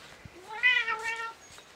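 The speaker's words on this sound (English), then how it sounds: "And I hear the cat." A cat meows outdoors once, a single drawn-out meow rising and falling in pitch and heard clearly and fairly close against quiet surroundings.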